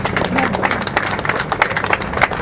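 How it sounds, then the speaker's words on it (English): An audience at a Los Angeles press conference on the Angels Flight Railway revival applauds with a dense, steady patter of many hands. The applause holds at an even level for the whole stretch. "Let's give that a round of applause."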